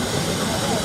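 An Aidling agricultural general-purpose steam traction engine rumbles steadily as it passes in a parade at the Netley Marsh Steam & Craft Show, a continuous broad hiss and churn close by.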